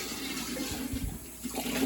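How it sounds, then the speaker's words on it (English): Water rushes and gurgles into hydronic heating pipes as air is purged beside a newly installed Weil-McLain CGa5 boiler, a steady, low, fairly quiet flow. "So right now water is coming in here, down."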